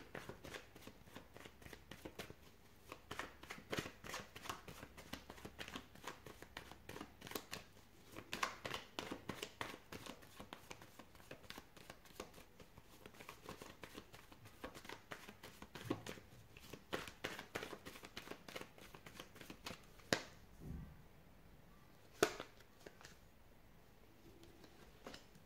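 Tarot cards being shuffled for a reading, a continuous close papery riffling and patter that runs for most of the stretch, then thins to a few soft taps and thumps near the end.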